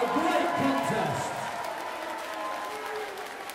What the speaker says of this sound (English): can we please have a round of applause for both boxers there?